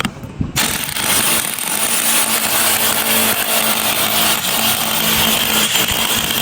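A power drill bores holes for JDF Rawlbolts, a loud, continuous grinding whine that starts abruptly after a short moment and holds steady throughout.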